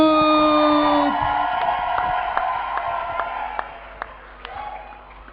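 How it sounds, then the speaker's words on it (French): A church congregation breaks into cheering and applause, a broad crowd roar with scattered claps and whoops that gradually fades over several seconds. "Avec des acclamations, recevons El Pirou."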